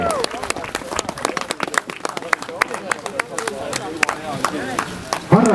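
Crowd applause for the motocross podium finishers at the Paikuse endurance cross race, with scattered sharp claps under a man announcing over the loudspeaker throughout.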